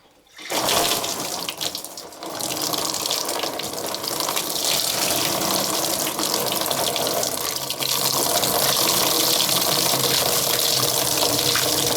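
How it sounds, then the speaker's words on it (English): Antifreeze gushing from a slid-off radiator hose into a pail on a Trailblazer, a loud, continuous rushing pour starting abruptly and holding steady for the whole stretch, no talking. "We'll go ahead and slide that hose off slowly, and I'll see if I can guide most of that fluid into the pail."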